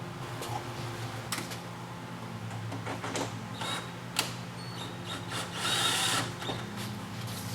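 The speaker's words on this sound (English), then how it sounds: "the screws are self-drilling, so they're going to make a hole in the metal" Self-drilling screws are driven through a metal side angle, a steady buzzing power-driver whine running throughout with a few sharp knocks and a louder grinding burst near the end.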